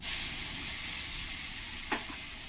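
Garlic paste sizzling in hot oil with bay leaves, cloves, cardamom and cinnamon, a faint steady frying hiss throughout with one brief clink of a spoon near the end.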